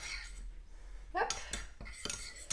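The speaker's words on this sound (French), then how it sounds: "Je remue mon café et mon lait, hein." Spoon stirring milky coffee in a cup, with a few quick clinks and scrapes against the cup over a low hum; no talking.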